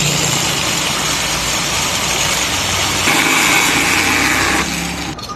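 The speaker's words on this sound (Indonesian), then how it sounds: "Ya, kita gerinda seperti ini." An angle grinder cuts into part of a Rinnai gas stove, giving a loud, continuous whirring drone that rises in pitch midway and then tapers off at the end.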